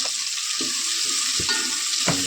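Onions, tomato, green chilies and ginger-garlic masala fry with a steady hiss in a pan for biryani, while a spoon stirs with a few soft scraping knocks at irregular intervals.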